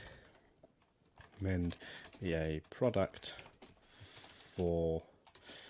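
Keys clatter on a computer keyboard sitting right in front of the microphone, a steady patter of clicks running beneath a voice as he speaks.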